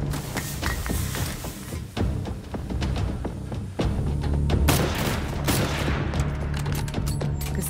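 Rapid, dense gunfire crackles nonstop, with sharp shots layered over a loud, rumbling barrage.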